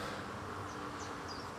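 Honeybees buzz in a dense, steady drone at an open Langstroth hive during a beekeeper's inspection, close and continuous throughout the short stretch, with no talking.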